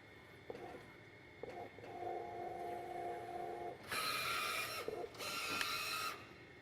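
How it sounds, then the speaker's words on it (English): An Epson T-series printer runs a nozzle check pattern: short mechanical whirs and clicks, then a sustained motor hum, followed by two louder bursts of high, buzzing print-head passes, close by and without talk. "Press OK twice to begin printing a nozzle check pattern."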